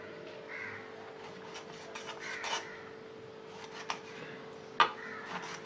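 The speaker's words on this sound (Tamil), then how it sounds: "இப்போ வந்து குறுக்கில் கட் பண்ணிக்கலாம்." A knife scores a whole fish crosswise, tail left on, ahead of frying: faint, quiet scraping and rasping strokes with a few short sharper scratches and a small knock near the end.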